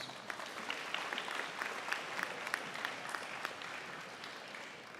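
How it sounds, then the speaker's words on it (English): Steady audience applause at a high school awards ceremony, a dense patter of many hands clapping at moderate distance and holding even throughout, with no talking over it. "One more round of applause for these wonderful singers."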